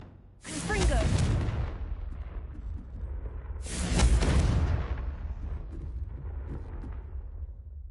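Two loud booming blasts from the Confringo spell in Hogwarts Legacy, the first near the start and the second midway, each with a rumbling tail that fades into a quieter background.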